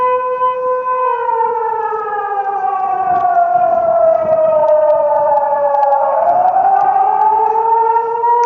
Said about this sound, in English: getting too close to the siren will sure be very loud if we get too close to that siren